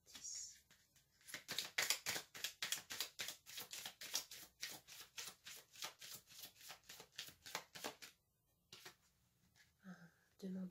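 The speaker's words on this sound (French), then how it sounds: "Je vais tirer une autre carte ici." Tarot cards shuffled in quick, rhythmic riffling bursts for about seven seconds, crisp and close, then a short pause and a few soft card handling sounds as one card is drawn from the deck.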